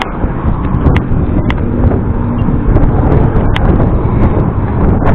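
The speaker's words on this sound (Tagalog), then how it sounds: "Malakas yata yung hangin ah" Loud, constant wind buffets the microphone during a bike ride, a heavy rumbling roar with occasional sharp clicks and no voices.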